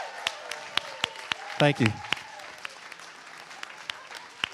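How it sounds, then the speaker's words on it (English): Scattered hand claps ring out over a busy room at a charity gala auction, with a short burst of clapping and a voice offering brief thanks. "Let's thank him right here with a big round of applause."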